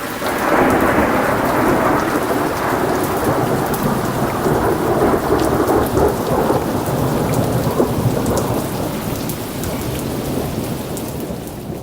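Heavy rain pours steadily on surfaces while thunder rumbles continuously beneath it in a strong storm with wind, loud and close throughout with no voices.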